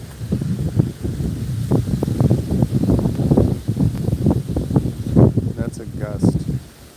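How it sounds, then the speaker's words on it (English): Outdoor wind buffeting a microphone, a steady low rumble and rustle that swells and eases across several seconds beneath someone talking. "It's a bit windy."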